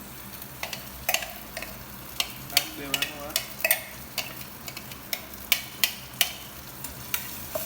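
Spices are tempered in hot oil in a home kitchen, giving a soft steady sizzle with sharp clinks of a spoon stirring against the pan, while a person speaks briefly.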